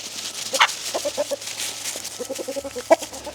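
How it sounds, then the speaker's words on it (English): Chickens cluck while running around a yard on a calm sunny day, with scattered soft clucks and a couple of sharper calls over faint outdoor background noise. "And the chickens are running."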